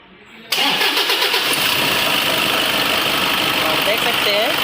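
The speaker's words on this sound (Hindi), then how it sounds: "अब करते हैं गाड़ी को स्टार्ट।" A Toyota Innova engine cranks and catches after a brief quiet start, then settles into a steady, loud, close idle with a V-belt hum, with a voice speaking over it.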